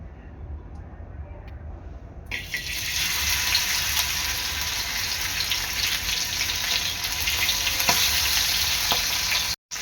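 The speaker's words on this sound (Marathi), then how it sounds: "अशा प्रकारे सर्व घोऱ्या मी व्यवस्थितरित्या तळून घेणार आहे।" Crabs dropped into hot oil set off a sudden loud, steady sizzle that continues close up for several seconds before cutting off abruptly.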